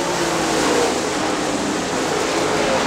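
Late model race cars roar around Crystal Motor Speedway in a dense, continuous wash of engine noise, loud and steady with no single car standing out.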